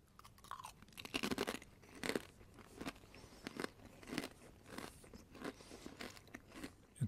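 Cheesy Kettle Studio potato chips are chewed up close, crisp crunching bites followed by a run of quieter, rhythmic chewing crunches.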